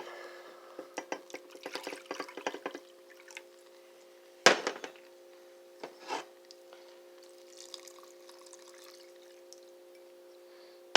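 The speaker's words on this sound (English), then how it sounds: "I'm going to add the next cup of water first," Water is poured from a cup into a cooking pot for rice pudding in a quiet kitchen, with short bursts of pouring and splashing, a sharp clatter midway, and faint dripping between.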